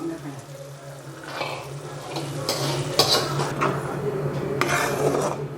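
Water poured into a grinder jar to rinse it while making tomato chutney, splashing and sloshing with clinks of the jar, someone speaking over it in the kitchen.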